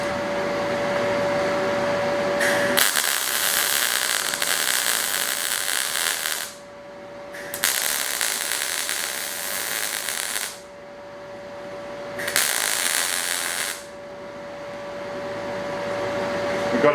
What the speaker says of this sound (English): Let's weld it up.